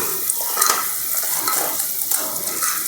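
Pakora fritter pieces drop into a bubbling tamarind stew with a steady simmering hiss and some stirring, continuous and close, with no voices.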